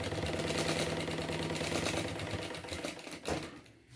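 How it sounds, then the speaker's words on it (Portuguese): A sewing machine stitches the pocket onto a unisex travel bag, a close, steady rapid needle chatter that runs for about three seconds before slowing and stopping, with no talk over it. "vou costurar aqui embaixo pro meu bolso já ficar na posição que eu quero."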